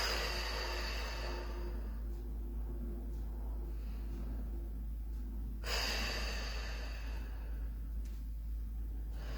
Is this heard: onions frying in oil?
no